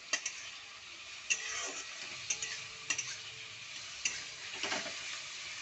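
Rice frying in a pan over a gas flame, stirred with a utensil: a steady low sizzle with sharp scraping clicks at irregular intervals, close and moderately loud, no talking.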